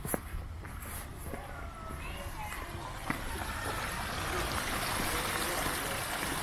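Water flows over a stream crossing in a park, a soft continuous rush and trickle growing slightly louder, with a few light footsteps nearby and people talking.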